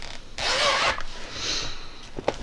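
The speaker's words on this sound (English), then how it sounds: "sorry, zipper" A zipper is pulled in two long rasping strokes close to the microphone, followed by a small click.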